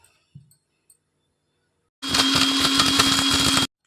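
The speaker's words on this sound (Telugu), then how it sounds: "ఇప్పుడు ఇందులో అన్నీ వేసుకొని మిక్సీ పట్టుకోవాలి" A mixer grinder whirs loudly for about a second and a half while grinding cumin, tamarind and salt for a green chili tomato chutney, starting abruptly after a few faint clicks and handling sounds, then stopping sharply.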